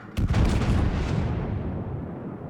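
HMS Vanguard, a British tier-8 premium battleship in World of Warships, fires its front turrets: one heavy, loud salvo boom that rolls on into a long, rumbling decay, with no talk.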